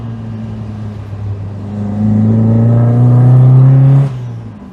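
A modified MGB sports car engine accelerates hard, a steady loud drone that climbs in pitch through the gears and swells in volume before suddenly backing off near the end. No voices.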